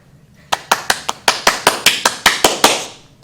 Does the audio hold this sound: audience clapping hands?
yes